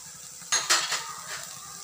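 Spoon stirring chili powder and garam masala into a tomato masala in a pan, with soft scraping and a couple of brief clinks over a low sizzle, close up and alone.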